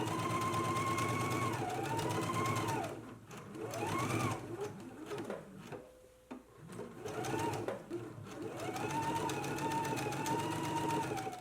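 A sewing machine stitching fabric for a girls' and misses' dress, running in steady whirring bursts with a short pause in the middle, close and loud with no voices.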